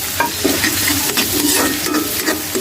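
Chopped onion and garlic sautéing in a pan for buttered garlic seafood, a loud close sizzle with busy stirring scrapes, no talking.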